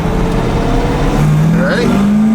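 A 1963 split-window Corvette engine running steady and loud from inside the car, a low droning rumble that climbs slightly in pitch as it pulls, with a voice talking over it.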